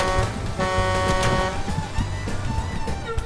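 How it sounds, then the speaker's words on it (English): A car horn in an online video game honks in short repeated blasts over dense game noise and engine hum. "that was the third time that I was honking the horn and nobody even moved"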